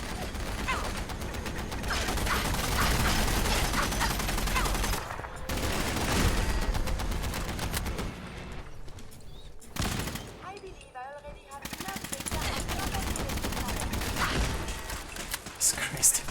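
Turret gunfire rattles through a Fallout 4 theme-park battle in loud, dense automatic bursts and fusillades, dropping into brief lulls before the shooting picks up again.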